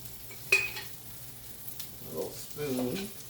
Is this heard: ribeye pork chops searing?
yes